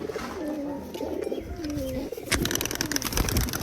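A courting male pigeon coos in repeated low, throaty rolling calls, close and fairly faint, followed by a burst of rustling and scratchy clatter.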